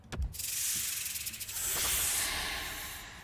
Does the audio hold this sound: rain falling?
no